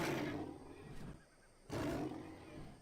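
Horse in the video game ARK: Mobile giving two loud, rough neighing roars, the second after a short quieter gap, over constant game background noise.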